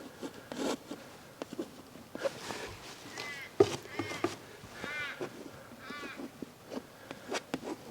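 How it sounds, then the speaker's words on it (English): A bird calls outdoors in the Flinders Ranges, giving a run of short, repeated chirping and warbling notes at moderate distance, mixed with sporadic clicks and rustles and a faint background hum. "That bird sounds fantastic."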